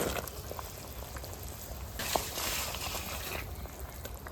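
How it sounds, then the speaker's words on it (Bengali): Curry gravy with spices bubbles in a pot, a soft steady simmer of small pops and gurgles with a brief louder surge midway, no voices. "ঝোলটা এখন ফুটে গেছে"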